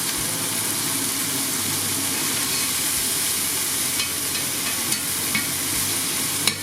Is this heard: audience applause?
no